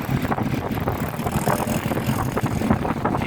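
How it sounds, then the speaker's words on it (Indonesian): Strong wind roars steadily across a microphone on a high bridge in Samarinda, a constant loud broadband rush with no pauses and no voices. "luar biasa kencangnya angin di Samarinda ini ya."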